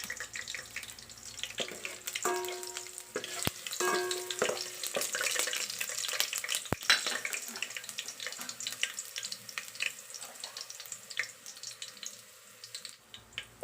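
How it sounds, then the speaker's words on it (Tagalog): Chicken sizzles and spatters in very hot oil, a busy crackling fry with clanks of utensil on pan and rhythmic bursts, heard close with no talk. "medyo tumalsik po kasi sobrang init na ng mantika"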